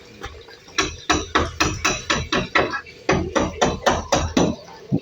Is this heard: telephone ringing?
no